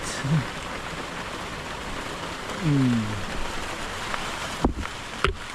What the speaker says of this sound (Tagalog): Napapatakan po ng ulan.